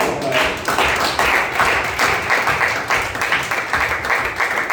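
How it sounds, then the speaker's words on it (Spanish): A church congregation claps together in a steady, lively burst of applause, filling the room without pause. "Denle un aplauso al Señor."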